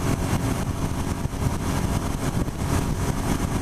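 Suzuki SV650 motorcycle engine in fifth gear at about 6,000 RPM on a highway near 70 mph. A steady, continuous drone with rushing wind noise holds throughout, and no one speaks.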